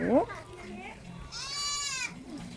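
A goat at a farm cafe gives a drawn-out, wavering bleat in the middle, near and clear, while a child and an adult talk around it.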